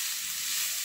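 Cabbage, carrot and beans stir-frying for fried rice, a brief, close, steady hissing sizzle that fills the moment without talk.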